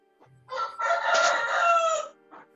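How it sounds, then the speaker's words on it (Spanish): A rooster crows once, a single full cock-a-doodle-doo lasting about a second and a half, fairly close and clear, with a short cluck before and a brief call after, and no talk. "Un gallo."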